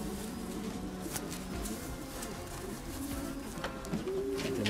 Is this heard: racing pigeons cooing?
yes